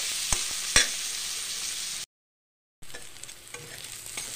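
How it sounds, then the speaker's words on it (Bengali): Turmeric and coriander powder frying in a pan with stirring, heard as a steady close sizzle with two sharp spatula scrapes early on, then a brief dropout before the frying hiss resumes. "দিয়ে এটাকে ভালো করে ভেজে নেব"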